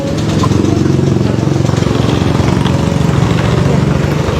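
A freshly repaired motorcycle engine runs steadily at idle, a loud, close, even putter with a fast regular pulse throughout.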